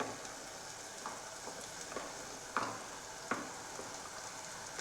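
Thinly chopped beetroot sizzles in a hot pan as it is cooked into a Kerala-style mezhukkupuratti stir-fry, a constant frying crackle broken by several sharp scrapes and knocks of a spoon stirring the pan, with no talking.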